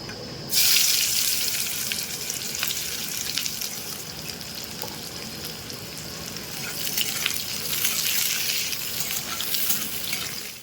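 Chopped onion hits hot mustard oil for chicken chotpoti and sizzles at once, a loud steady frying hiss that runs on without pause.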